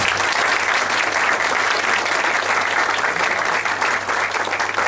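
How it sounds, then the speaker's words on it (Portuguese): Audience at a PSD party inauguration ceremony in Fortaleza gives loud, sustained applause, a dense, even wash of many hands clapping with a faint steady hum beneath. "Todos uma salva de palmas, senhoras e senhores."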